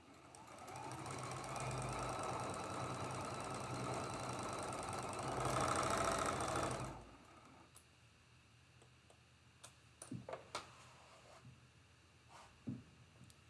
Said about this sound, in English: Flip it over, match up that raw edge and sew that seam.